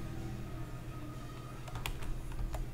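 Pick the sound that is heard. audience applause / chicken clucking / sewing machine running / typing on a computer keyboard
typing on a computer keyboard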